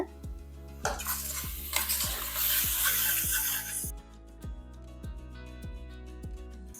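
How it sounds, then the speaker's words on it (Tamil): Mutton biryani masala with coriander leaves being sautéed in a pan, a loud bright sizzle with rhythmic stirring scrapes, the frying surging for a few seconds then easing while the stirring continues. "கொஞ்சமாக கொத்தமல்லி இலையும் சேர்த்துடலாம் போட்டு எல்லாத்தையும் நல்லா வதக்கிக்கலாம்"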